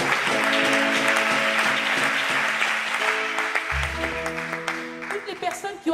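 A church congregation claps and cheers in a dense, sustained wave of applause, with someone speaking over it and a low musical tone underneath.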